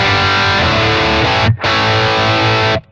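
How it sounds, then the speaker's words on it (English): An electric guitar through a Blackstar ID Core V3 amplifier with a classic cabinet setting and amp reverb plays two loud sustained distorted chords, the second ringing out and decaying. "I've got a little bit of reverb on there, which is coming off of the amplifier as well"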